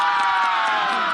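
Crowd hooting and cheering at a local sports match in Nagitar during a Rastrapati Running Shield game, a steady, dense wash of voices close and loud throughout, with no clear individual words.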